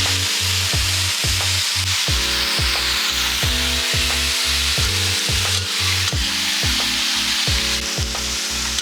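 Marinated chicken for bakmi ayam sizzles loudly in hot oil, a dense continuous frying hiss with rhythmic low scraping knocks from stirring repeating throughout, close and without speech.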